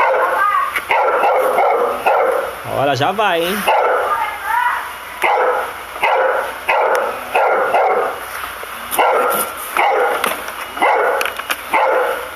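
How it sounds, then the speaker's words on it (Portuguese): A dog barks repeatedly and close by at a delivery stop in Brazil, loud yapping bursts in an irregular rhythm throughout, with someone talking briefly in between. "Olha o cachorro. Melhor amigo do motoboy,"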